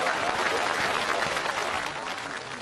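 Sustained audience applause at a comedy sketch performance, a dense, steady wash of many hands clapping that fills the whole stretch and eases slightly toward the end.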